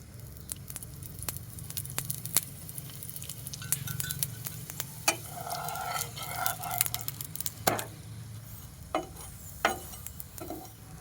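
A yogurt paratha fries in a little oil on a hot pan with a soft, faint sizzle. Scattered clicks and taps of a utensil on the pan punctuate it.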